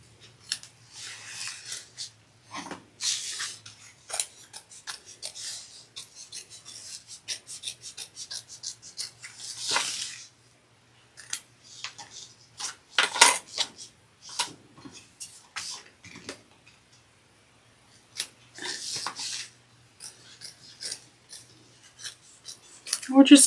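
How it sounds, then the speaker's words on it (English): Scissors cut around a pocket opening in waterproof canvas for a backpack, giving a series of short, sharp snips and rasps in irregular bursts, with brief pauses between cuts. "We're just cutting around like we do any other pocket."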